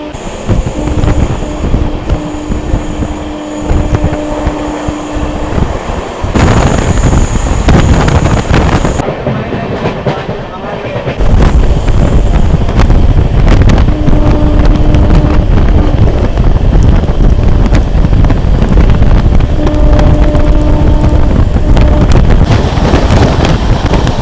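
Vibhuti Express with new LHB coaches runs at high speed past Dankuni Junction, giving a loud, continuous rumble and rattle heavy with wind buffeting, with intermittent tonal whines throughout and no voices.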